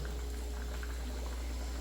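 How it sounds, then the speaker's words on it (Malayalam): A Kottayam-style fish curry bubbling in a clay pot, a soft, steady simmer of small bursting bubbles, faint and close with no voices. "നമുക്ക് ഒന്നുകൂടി ഒന്ന് തിളപ്പിച്ചിട്ട് നമുക്ക് ഓഫ് ചെയ്യാം"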